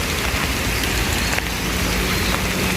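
Hail falls with heavy rain in a Queensland town, a dense, steady roar of pelting ice and drops striking surfaces, loud and continuous with no talk.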